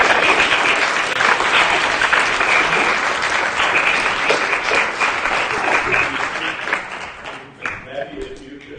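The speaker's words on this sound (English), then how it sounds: "Let's give one more big round of applause." An audience at a public history talk gives dense, sustained applause that fills the room steadily, then thins into a few scattered louder claps near the end.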